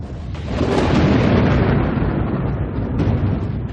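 Deep thunder rolls in and swells into a loud, sustained rumble that lingers for several seconds before easing slightly, with no voices.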